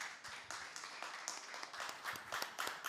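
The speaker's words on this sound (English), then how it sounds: "I just want to give one last round of applause, please, for Dr. Doniel Kane of the 5Cs" A conference audience gives a round of applause for Dr. Doniel Kane, a faint, continuous patter of many hands clapping at a distance.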